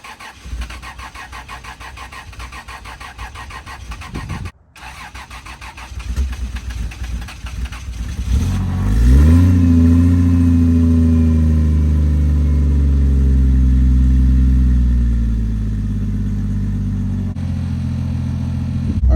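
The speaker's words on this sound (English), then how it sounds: "let's get a cold start on this" A 2JZ engine swapped into a Jeep XJ is cold-started: a few seconds of starter cranking, then it fires with a loud rising rev that settles into a steady, rumbling fast idle, close up.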